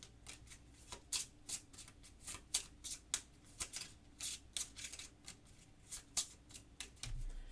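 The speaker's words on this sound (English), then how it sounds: "So I've got the night deck right here, which I'll give this a shuffle." Hands shuffling the night deck of game cards for the board game Gloom of Kilforth: a run of quick, crisp riffling snaps and soft slides, close and fairly quiet, repeating irregularly for several seconds.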